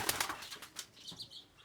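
A pigeon held in the hand, its wings fluttering and vibrating in quick, soft, close bursts of flapping, faint and brief.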